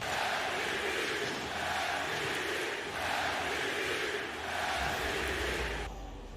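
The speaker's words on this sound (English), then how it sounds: "You hear the chants from the crowd." A football match crowd chants in a steady, swelling roar, rising and falling in slow waves for several seconds before fading slightly at the end.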